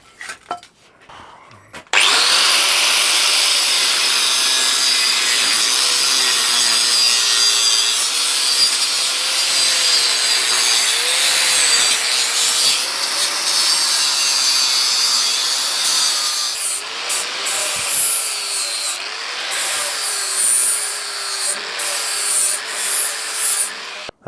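Plasma cutter slicing through thick steel plate for a leg vice build, a loud continuous hissing roar starting after about two seconds and holding steady for the rest of the cut, with crackly bursts toward the end.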